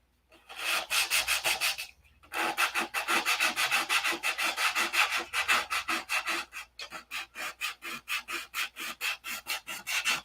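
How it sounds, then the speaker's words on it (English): Sandpaper worked back and forth over Z-poxy epoxy that has not fully cured, a close, rhythmic rasping of steady strokes with a brief pause early on, the strokes turning shorter and more clipped toward the end. "Did you hear it change tone there? That's when you quit sanding."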